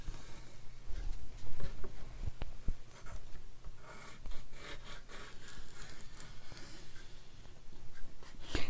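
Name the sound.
bone folder pressing and creasing paper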